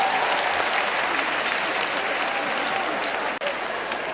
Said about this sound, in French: Applaudissez pour les enfants de nous ici dans ce pays.